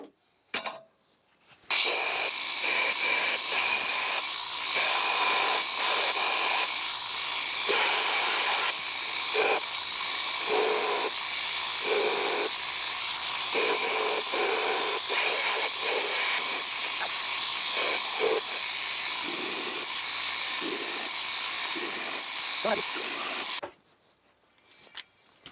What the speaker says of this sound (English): I squared up my table, got my belt on there, and I'm going to go ahead and start grinding away.